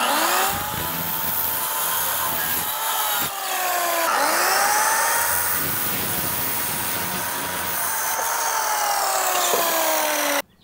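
A power saw cuts wood trim pieces for a playhouse window in long, loud whining passes, its pitch sweeping up as it bites and dropping briefly between cuts. The sound is close and continuous, with no talking.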